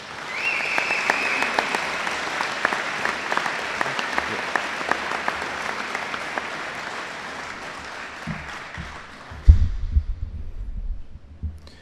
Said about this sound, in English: Can you please give both recipients a round of applause?